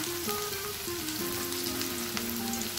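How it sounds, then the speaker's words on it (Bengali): Chopped onions frying in hot oil in a kadai, a steady close sizzle with a few faint clinks and tonal squeaks running through it, no voices. "তেল গরম হয়ে গেছে, এবার আমি এর মধ্যে দিয়ে দেব 2 মাঝারি সাইজের পেঁয়াজ কুচি"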